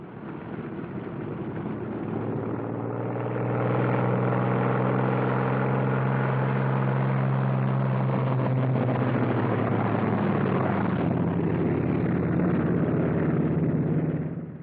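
P-47 Thunderbolt fighter planes taxi out, their piston engines making a loud, steady, rumbling drone that swells slightly and holds for several seconds, with no voices over it.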